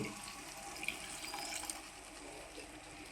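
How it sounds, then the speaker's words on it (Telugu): Water pours steadily into a pot of salt fish curry seasoned with turmeric and chili powder, a continuous close splashing fill with no one talking. "ఇందులో నీళ్ళు పోసుకుంటున్నాను కొన్ని"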